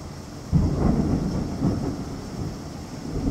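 Rain pours steadily on a front porch during an East Texas thunderstorm as low thunder rolls in and rumbles on, swelling in waves beneath the constant downpour.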